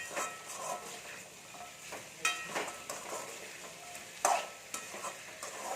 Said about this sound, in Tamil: மீடியம் ஃப்ளேமில் வச்சு வதக்கிக்கோங்க